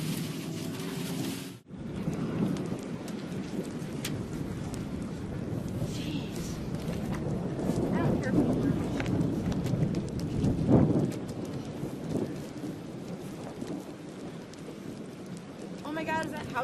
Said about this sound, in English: We're getting hit with some hail, some debris.